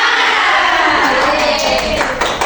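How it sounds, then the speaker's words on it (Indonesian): Primary school class performing the 'tepuk semangat' clapping routine: a dense, loud burst of many hands clapping together with crowd-like chatter, sustained for a couple of seconds. "1, 2, 3, tepuk semangat."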